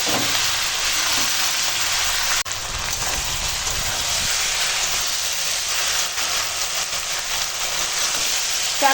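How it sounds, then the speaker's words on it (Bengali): Ash gourd sautéing in a pan for a Bengali home-cooked dish gives a steady, loud broadband sizzle and hiss that fills the clip, with a brief dip partway through and no talking. "আজকে চাল কুমড়োটা ভালো করে এখন কষাবো"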